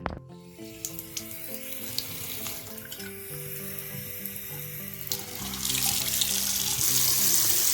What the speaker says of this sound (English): We got water running, let's run the cold water